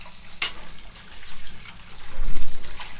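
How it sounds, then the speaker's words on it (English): Warm tap water running into a sink as a container is rinsed out, splashing and trickling unevenly with a sharp knock early on and surging louder toward the end. "the solution is then discarded in a sink and the container completely rinsed out with warm water"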